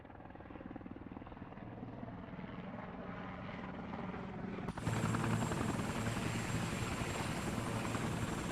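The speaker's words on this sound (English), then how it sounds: "Dante in a chopper again." A police helicopter in the video game Yakuza 4 Remastered thrums with steady rotor chop that grows louder, then jumps to a fuller, closer roar partway through.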